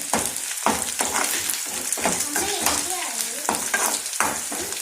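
Idli upma ingredients fry in a pan with a steady, loud sizzle throughout, broken by repeated stirring scrapes close at hand.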